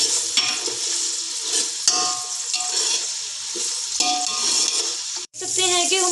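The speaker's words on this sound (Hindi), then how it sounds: "और थोड़ी देर में मटरों को इस अनियन और ऑयल में भूनना है।" Peas fry in onion and oil with a loud, continuous sizzle, broken by stirring scrapes and a short dip near the end, after which the crackle returns briskly.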